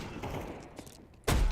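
A grenade explodes in a multiplayer shooter game, one sudden loud low boom near the end following a stretch of busy game noise.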